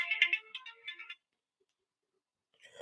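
A phone rings for an incoming live call-in, a bright warbling electronic ringtone bursting for about a second, falling silent, then starting again faintly at the end.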